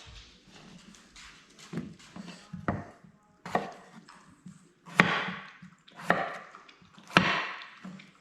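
Knife chopping washed skin-on potatoes into big chunks on a cutting board, a run of hollow, thudding cuts that grow heavier and more spaced toward the end, close by with no talking.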